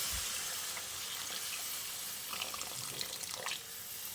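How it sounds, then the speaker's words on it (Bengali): About a cup of warm water poured into an aloo paneer curry in a pan, a continuous close splashing pour with hiss and bubbling that rises briefly near the end. "এবার এর মধ্যে দিয়ে দিচ্ছি 1 কাপ মতো উষ্ণ গরম জল।"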